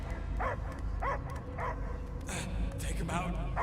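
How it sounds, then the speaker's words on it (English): Dog barking inside the Guardians of the Galaxy video game, a few short yelping barks repeating over a steady game-sound background, with voices talking at times. "I hear only barking."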